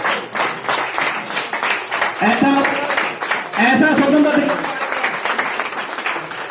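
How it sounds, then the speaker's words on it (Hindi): Clapping from an audience at a community ceremony in Sewa Nagar, Ghaziabad, scattered at first and swelling in the middle, mixed with someone speaking and cheering voices. "जोरदार तालियों स्वागत करें"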